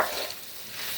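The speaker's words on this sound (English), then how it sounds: "add all this onion we chopped to it, and I'm going to let that cook down" Chopped onions cooking with meat in a pan for a pinto bean casserole, a brief, steady close sizzle with soft stirring and no talk.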